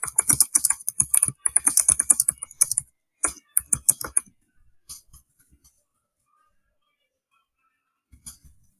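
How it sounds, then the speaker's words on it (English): Rapid typing on a computer keyboard, a steady run of close, crisp key clicks for about four seconds, then a few scattered taps and near silence before a brief final burst of keystrokes. "So I have typed in description"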